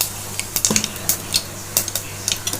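Mustard seeds spluttering and popping in hot sesame oil in a pan, irregular sharp crackles and small bursts close by over a low hum, no voices.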